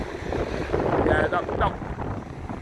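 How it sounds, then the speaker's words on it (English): Wind blowing outdoors at dusk, buffeting the microphone in rough gusts, with people talking and brief faint whistly tones over it. "Now that sun's gone down and the wind's come up a little bit."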